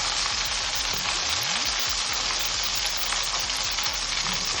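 Steady, dense sizzling of banana chips frying in hot oil, a continuous crackling hiss with no voices, close and fairly loud throughout.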